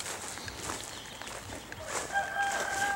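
Backyard chickens clucking softly in the background amid outdoor ambience, faint and fairly distant, with a thin high tone appearing near the end.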